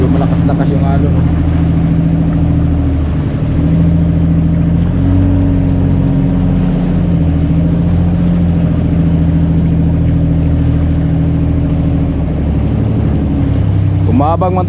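A motorboat engine drones steadily and loudly as the boat runs over fairly rough waves near a pier, with water and wind noise mixed into the constant hum.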